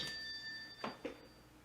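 A telephone rings faintly with an incoming call, a thin steady electronic tone sounding quietly through the short moment, with soft background noise and no talk.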